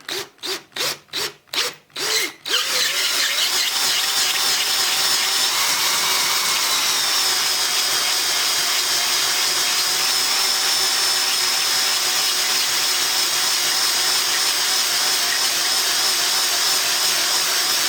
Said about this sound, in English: I want the drill bit to cut it.